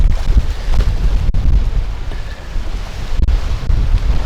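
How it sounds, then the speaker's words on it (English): Strong wind at sea buffets the microphone aboard a fishing boat off Dover, UK, a loud, rumbling roar with gusty swells and no talking. "The wind's just that bit too strong for him, I think."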